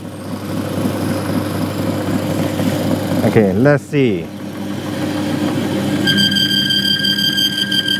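A bearing oil test machine runs steadily with a mid-pitched mechanical drone, testing engine oil, briefly interrupted by a clunk, while a person speaks a few words over it.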